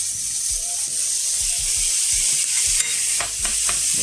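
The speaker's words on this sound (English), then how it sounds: "let's put our bacon in the pan" Bacon fries in a pan for a breakfast quiche, a steady close sizzle and crackle with scattered soft pops and a few light clinks, loud and with no talk.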